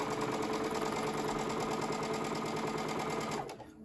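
A sewing machine stitches beginner quilt-block rows together in a fast, steady, continuous whir, close and loud, then stops abruptly near the end.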